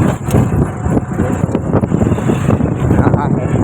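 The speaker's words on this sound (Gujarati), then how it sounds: "મસ્ત મજાનો પવન આવે રિક્ષામાં" Wind roars steadily into a moving auto rickshaw on a road near Botad, giving a loud, constant buffeting rush over the microphone with engine rumble underneath.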